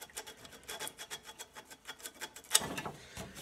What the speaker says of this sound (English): you sand that gently.